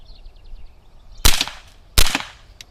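Two sharp CCI Quiet .22 rounds fire from a semi-automatic gun outdoors, loud cracks spaced under a second apart with short decays.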